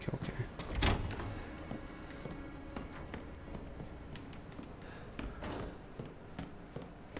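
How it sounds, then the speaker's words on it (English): A door opens in the horror video game Resident Evil 7, with one loud heavy thud and creak near the start. Dim, rumbling game ambience with scattered knocks and clicks follows. "What is that door?"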